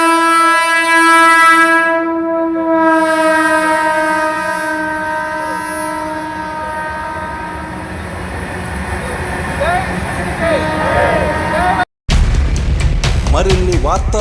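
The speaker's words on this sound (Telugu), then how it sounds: "ట్రైన్ ఆగినప్పుడు" Sampark Kranti express train at Rajampet railway station, its long sustained horn blaring loudly with strong harmonic tones, then rumbling wheels and squealing brakes as it slows, with a crowd talking and cheering in the background.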